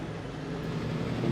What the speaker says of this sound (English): okay, the truck.